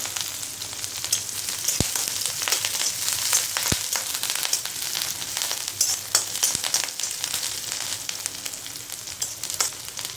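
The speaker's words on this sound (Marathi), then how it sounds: "आता घालायची हिरवी मिरची पाच हिरवी मिरची बारीक कापून घेतलेली" Finely chopped green chillies frying in oil for poha chivda, a steady close crackling sizzle with scattered sharp pops throughout.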